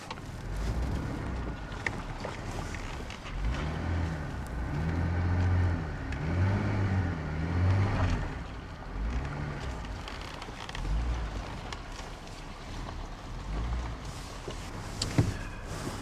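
Off-road vehicle engine revving while stuck in mud before switching into four-wheel drive, rising and falling engine drone with wind rumble, moderately loud and continuous.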